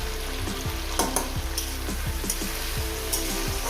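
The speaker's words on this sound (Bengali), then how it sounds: "প্রথমে আমি এটাকে বরবটিটাকে মিনিমাম তিন চার মিনিট ধরে আমি চার পাঁচ মিনিট ধরে আমি এটাকে ভেজে নেবো" Long beans fry in oil in a pan over a medium gas flame, giving a constant loud sizzle with repeated spatula taps and scrapes breaking through at a steady rhythm.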